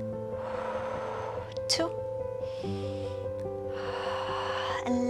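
Breathing during a home Pilates workout: a long inhale and a longer exhale, each a soft airy rush, close up between a woman's spoken instructions.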